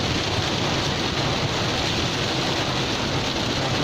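Heavy rain heard from inside a vehicle, a dense, steady roar of water drumming on the body and roof with no pauses and no voices.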